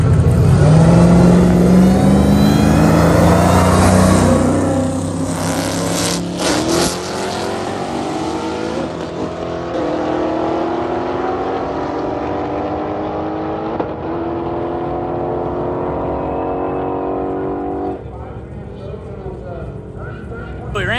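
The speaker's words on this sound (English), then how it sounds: "go out and make the truck's first pass down a quarter mile" A Hellcat-powered Ram truck with a 400 transmission launches hard on a quarter-mile drag strip, its loud engine rising in pitch through the gears as it pulls away and fades toward the end of the run.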